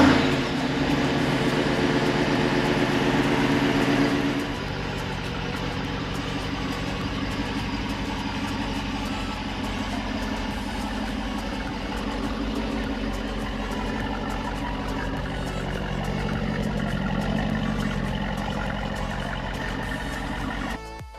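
A Jeep Wrangler 392 on 35-inch tires idles and rolls slowly outdoors, its deep, steady engine rumble filling the scene with a louder surge at the start, then a constant low drone with a slight swell later, with no talking.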